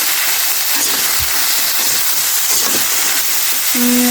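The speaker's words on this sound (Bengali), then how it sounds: "ভালোভাবে একটু কষে নিই আমি আমার সবজি কষানো শেষ" Mixed vegetables with carrot and green chilli sauté in a pan, giving a loud, steady hiss and sizzle throughout, broken by faint stirring scrapes.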